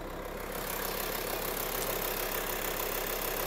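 The 2.5 litre V6 diesel engine of a 2005 Volkswagen Touareg idles steadily nearby, a constant low rumble with a faint ticking texture and no talking.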